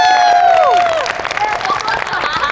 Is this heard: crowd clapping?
yes